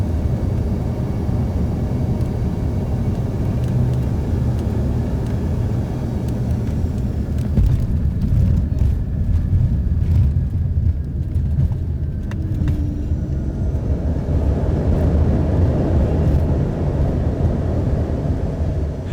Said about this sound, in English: That was a smooth landing,